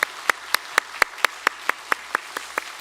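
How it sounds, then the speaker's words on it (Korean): A small church congregation at a Sunday service claps to welcome new members: about a dozen sharp, evenly spaced claps, close and clear, almost like one person's steady beat, with no voices. "우리 박수로 환영하도록 하겠습니다"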